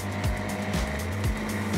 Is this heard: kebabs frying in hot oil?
no